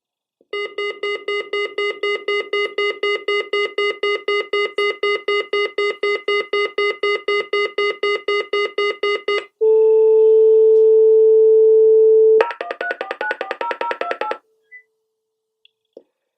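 A Doro 347 phone's emergency call alert: a rapid run of electronic beeps for about nine seconds, then a steady loud tone, then a quick melodic sequence of dial-style tones.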